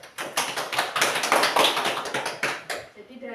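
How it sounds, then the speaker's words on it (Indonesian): Audience clapping at a school teachers' reflection session, a dense burst of hand claps that swells, peaks mid-clip and trails off near the end. "Mari kita berikan tepuk tangan kepada Bu Herlina."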